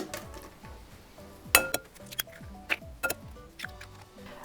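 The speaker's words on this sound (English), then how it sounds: "I'm going to crack my eggs into the bowl" Eggs are cracked into a bowl for a citrus olive oil cake, a few sharp shell taps and clicks against the rim coming close and distinct over a quiet kitchen.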